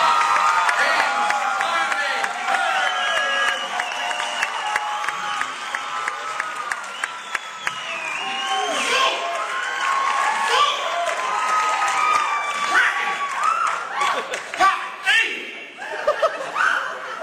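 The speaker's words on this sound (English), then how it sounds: "Give him a nice round of applause." A comedy club crowd claps and cheers for a comedian, loud sustained applause with whoops and scattered chuckles, tapering into a few laughs near the end.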